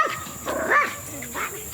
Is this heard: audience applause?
no